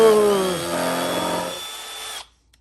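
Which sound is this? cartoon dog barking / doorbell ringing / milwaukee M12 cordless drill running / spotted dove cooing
milwaukee M12 cordless drill running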